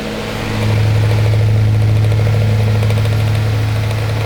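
A 1920s-30s A.C. Gilbert oscillating desk fan hums loudly and steadily as its motor spins up, with a fluctuating speed and a persistent buzzing rattle running throughout.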